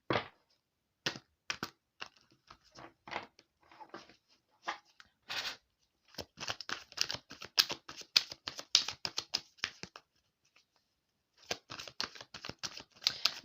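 Oracle cards being shuffled by hand give quick, crisp riffling and flicking bursts in irregular clusters, close and fairly quiet, separated by short silent pauses, no talking.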